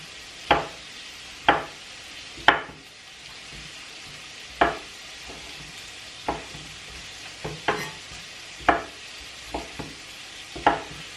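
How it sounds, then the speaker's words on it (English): Mushrooms and bacon fry together in a pan with a steady soft sizzle, broken by a dozen sharp, irregular clacks of a utensil stirring and scraping against the pan, close and without talk. "I think I might cook the mushrooms in with the bacon just to keep things nice and simple"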